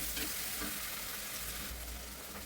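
Bitter gourd sautés in oil in a pan with a quiet, even hiss of frying that holds steady throughout, no voices heard.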